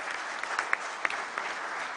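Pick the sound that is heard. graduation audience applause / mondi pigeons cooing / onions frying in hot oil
graduation audience applause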